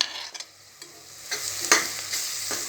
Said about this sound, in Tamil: இதுவும் நல்லா பச்சை வாசனை போகிற அளவுக்கு வதக்கி விட்டு எடுத்துக்கோங்க